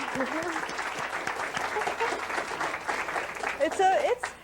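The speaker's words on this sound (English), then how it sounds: "I think your demonstration needs a round of applause" Applause from an audience after a brainwave demonstration, a moderate scattered patter of clapping with voices talking over it and a louder swell near the end.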